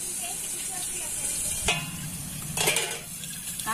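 Washed eggplant and potato going into hot oil in a wok, a soft hiss of frying with a few sharper sizzling bursts and clinks of utensils, fairly close.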